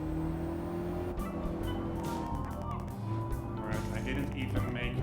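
A race car engine in Gran Turismo 7 drones and shifts pitch through a corner, with tire noise and scraping bursts over it, heard steadily and fairly loud, while a person talks over the game.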